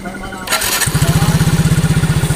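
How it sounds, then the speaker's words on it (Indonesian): Electric starter cranking a Yamaha Mio J scooter engine that has a starter fault: a brief whir, then loud, close, rapid rhythmic chugging as the motor turns over. "bisa di starter tapi nanti tiba-tiba itu nggak bisa, seakan-akan kayak aki ngedrop"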